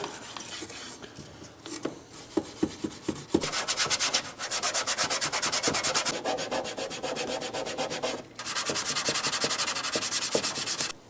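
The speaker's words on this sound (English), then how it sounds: "Here I have some Scotch-Brite. We're just going to rough up the surface a little bit." Scotch-Brite pad scrubbed over BMW center console parts to rough up the surface before paint: a few scattered scuffs, then long rapid rhythmic rasping strokes close up, with a short pause midway.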